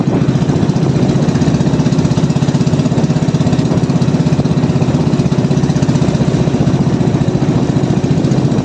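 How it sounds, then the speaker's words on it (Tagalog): A small engine idles roughly at a raised idle, a steady loud chugging drone with a fast, even pulse that runs unbroken throughout, with no voices over it. "Ayaw talagang magandar ng matino. Yan o, minor. Sobrang lakas ng minor."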